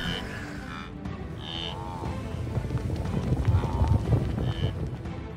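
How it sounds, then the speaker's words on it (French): Vast migrating herd of wildebeest with zebras and antelopes crossing the savanna, a dense rumbling mass of hooves and lowing calls that builds steadily louder, with scattered animal cries overhead. "faisant trembler le sol du bruit de leurs sabots"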